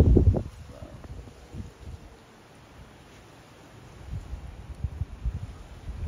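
Wind gusting outdoors in the San Francisco Bay Area buffets the microphone in rumbling bursts at the start and again toward the end, with a calmer, hushed stretch between.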